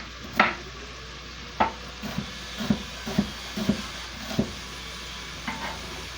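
Sausage sizzles softly in a pan as it browns, with a faint steady frying hiss under a series of distinct spatula knocks and scrapes spaced a second or so apart.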